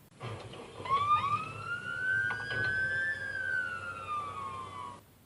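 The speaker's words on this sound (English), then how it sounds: "I think it was the police sirens." A police car siren wails with rising and falling tones for several seconds, moderately distant, alongside faint traffic rumble, then cuts off abruptly.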